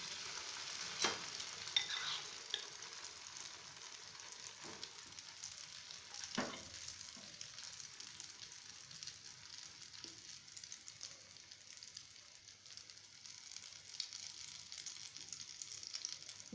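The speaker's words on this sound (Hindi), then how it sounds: "अब हम इस मिक्सचर में स्लाइस रखेंगे और इसको तल लेंगे।" An egg-dipped bread slice frying in a tablespoon of oil in a pan, giving a faint, steady hiss that runs throughout, with a few soft knocks and taps.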